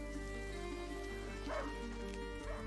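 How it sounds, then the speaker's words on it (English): A hunting dog yips and barks in A Plague Tale: Innocence, a couple of faint calls buried under a steady ambient game soundscape. "a hunting dog is not supposed to lose its hunter"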